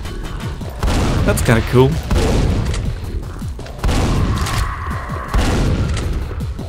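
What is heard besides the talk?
Quake video game monsters shooting each other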